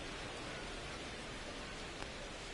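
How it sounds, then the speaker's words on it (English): Steady rain pours down at a baseball game in MLB The Show, a dense, even hiss lasting throughout with no voices over it. "This rain is not letting up."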